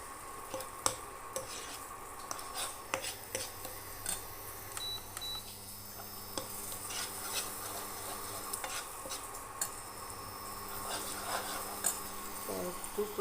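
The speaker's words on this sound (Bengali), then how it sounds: "এখন আমি পেঁয়াজ আর টমেটোটা এর মধ্যে ঢেলে দেবো। আমি ঢেলে দিলাম, একটু কষিয়ে নেব আমি এটাকে ভালোভাবে।" Onion and tomato stirred and fried in a pan with spices for a paneer dish, a quiet sizzle under frequent spatula scrapes and knocks against the pan, close-up and without talk, with a few faint electronic beeps.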